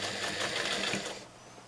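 A sewing machine stitching in reverse to back tack the end of a seam on a canning mat, a steady close whirring buzz for about a second that drops to quiet near the end.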